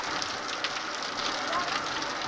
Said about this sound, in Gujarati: અંતે વરસાદ શરૂ થયો